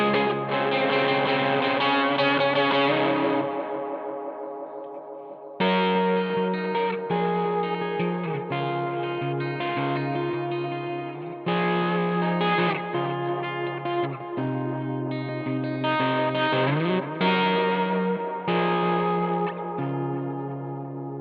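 Guitar played through an effects pedal giving a completely washed-out, dreamy tone, with long sustained chords smeared by echo and reverb, each phrase ringing into the next, loud and alone.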